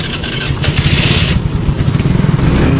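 Honda Icon 110 motorcycle with a noisy side (transmission) cover starting up, then settling into a steady, close, loud idle with a clattering mechanical tick.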